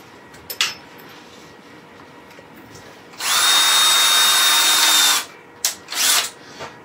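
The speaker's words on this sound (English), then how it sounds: "I'm just going to drill a couple of holes." A power drill whirs steadily for about two seconds close by, drilling holes in MDF, framed by short clicks and clunks and brief bursts of the drill spinning up.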